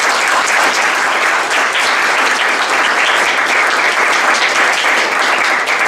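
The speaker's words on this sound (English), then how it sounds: "Let us give him a round of applause" An audience at a talk on AI for social good claps in a loud, continuous, even round of applause that fills the room for several seconds without pause.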